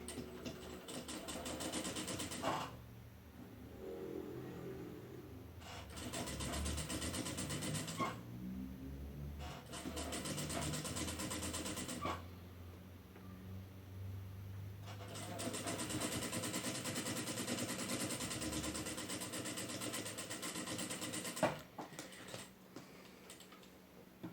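A sewing machine runs several stitching bursts over a doll's coat. Its motor whirs and ticks up close, separated by short pauses, with no talking.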